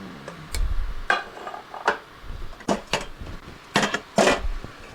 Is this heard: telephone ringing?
no